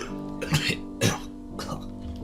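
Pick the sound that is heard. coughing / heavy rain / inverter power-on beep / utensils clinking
coughing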